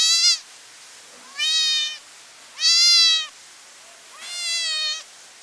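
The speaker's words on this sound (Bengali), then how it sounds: "এই বিড়াল নিয়ে খেলাধুলা কেন?" A pet cat kept on a dairy farm meows four times, the calls loud and close, each a drawn-out rising-falling cry separated by short pauses, with no talking.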